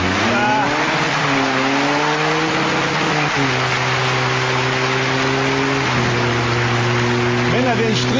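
A car turns around during a tyre-change stunt, its engine droning loud and steady with a few pitch shifts as it revs and manoeuvres, under continuous crowd noise and a commentator's voice.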